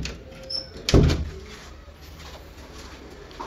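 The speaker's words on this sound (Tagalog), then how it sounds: "Sara ko yung pinto, Mang Donato, ah." A door shuts once with a single solid thump, followed by a quiet room tone.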